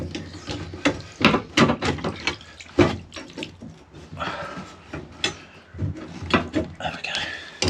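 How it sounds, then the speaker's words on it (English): Water spurts and splashes from a freshly cut plumbing pipe being capped, in irregular bursts and gushes, close and fairly loud with clunking handling noises. "Might get a little bit of water still come out."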